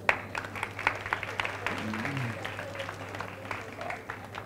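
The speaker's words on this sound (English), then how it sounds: "please give a huge round of applause" Audience applause at an HR management summit, scattered, moderately distant clapping from a seated conference crowd, with faint voices underneath.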